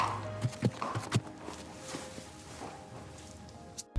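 Horses in a stable, with a few hoof clops and shuffling steps early on, a faint neigh-like sound, and quiet stable ambience.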